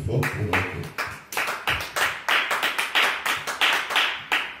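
A church congregation applauds in a quick run of sharp, close claps with a slightly uneven rhythm, loud and continuous for a few seconds, with no talking over it.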